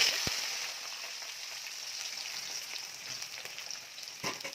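Potatoes sizzling in hot oil in a kadai, a steady crackling fry with small pops and a couple of sharper clicks, close but fairly soft, with no voices.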